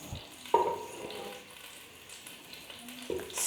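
Spices such as fennel and green cardamom drop into melted desi ghee, with a sharp burst of sizzling followed by a soft, fading fry. A second small crackle comes near the end, and the whole sound is quiet and close.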